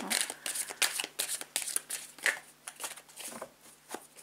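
Tarot cards being shuffled and cut close up, a rapid series of crisp riffling slaps and flutters in quick uneven bursts, with no voice.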